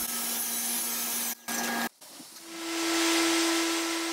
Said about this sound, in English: I ran them through the planer a couple times and surface planed each side of these